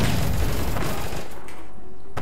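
A Tommy gun fires in the video game APB, giving a loud, dense burst of rapid gunfire that gradually thins and ends in a final sharp shot.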